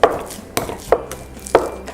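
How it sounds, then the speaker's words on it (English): Half a banana mashed with a masher in a bowl for healthy blueberry muffins: a few separate, soft, damp thuds at irregular intervals, close up, with no talking. "get your masher, and mash it up"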